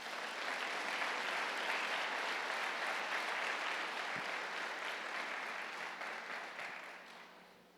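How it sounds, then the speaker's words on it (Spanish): A church congregation applauds during a sermon, dense sustained clapping from a large crowd in a reverberant hall, steady for several seconds before gradually fading out. "Dale un aplauso a Dios aunque te duela."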